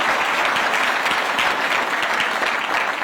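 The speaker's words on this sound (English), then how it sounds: "one more round of applause for the MOUs that have been signed here this morning." Dense, sustained applause from a crowd at a Sweden, Norway and Kenya summit after agreement signings, steady and loud for the full few seconds with no break.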